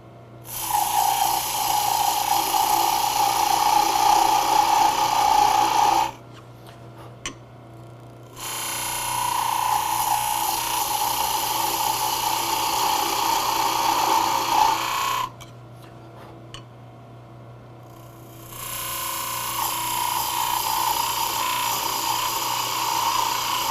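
A wood lathe spins a Christmas ornament while a tool parts off the tenon on its end, giving a steady high-pitched hiss and whine in three long bursts separated by short quiet pauses, close and loud over a constant low motor hum.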